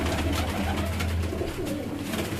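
A high-flying pigeon coos in low, rolling calls, steady and fairly close, half buried in a constant broadband hiss.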